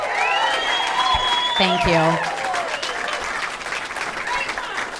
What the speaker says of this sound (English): I'm a sucker for applause